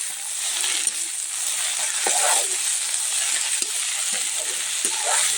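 Semolina halwa fries in a pan on an outdoor clay stove while a spoon stirs it, giving a continuous close sizzle broken by repeated scraping knocks at an irregular rhythm.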